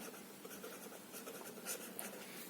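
A pen or pencil writing out an answer during a maths lesson, with faint scratchy strokes in quick irregular bursts, close but quiet, without talk.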